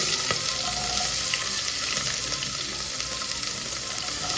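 Onions frying in a pot for vegetable pulao, a steady loud sizzle with occasional clinks and scrapes, close and continuous.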